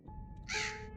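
A single harsh crow caw rings out over a low hum of background sound in the Roblox game Granny.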